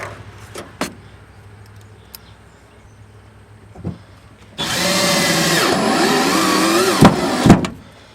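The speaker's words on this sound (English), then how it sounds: "So now I'm going to screw this down." A DeWalt cordless drill drives screws into wood while building a duck boat, with short clicks and bumps before a sustained loud whirring run that ends in two sharp bursts as the screw seats.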